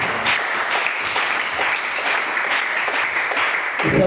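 A church congregation applauds the Lord Jesus Christ at the close of a French-language service, sustained crowded clapping filling the room evenly for several seconds with a few voices faintly mixed in.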